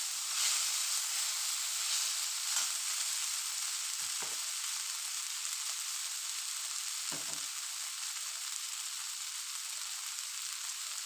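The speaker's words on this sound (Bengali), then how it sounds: "এটাকে ভালো করে একটু নেড়ে চেড়ে দিতে হবে" Egg chow mein frying in oil in a wok gives a constant, bright sizzle and hiss throughout, broken by a few soft stirring knocks, close and with no talking.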